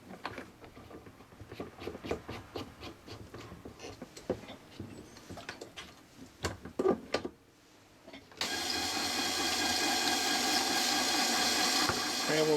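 A marble polishing machine tumbles three marbles in 800 grit, a steady loud broadband whir and rush that starts abruptly and runs on without a break, after a stretch of clicking handling noises.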